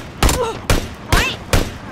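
Video game gunfire: four loud, evenly spaced shots about half a second apart, close and punchy, with brief shouting between them.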